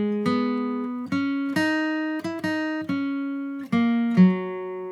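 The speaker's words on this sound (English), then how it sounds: "An ascending minor 3rd sounds like the beginning to Greensleeves." Guitar playing a melody that opens on an ascending minor third, a clear sequence of about nine plucked notes, near and loud with no voice.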